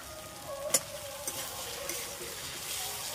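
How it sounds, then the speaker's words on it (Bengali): Chunky pieces of bottle gourd sizzle and sear in a hot pan, with a sharp scrape of the spatula early on and a few lighter clicks of stirring over a steady, close frying hiss; nobody speaks. "এবারে লাউগুলো দিয়ে দেবো, দিয়ে ভালোভাবে কষিয়ে নেব।"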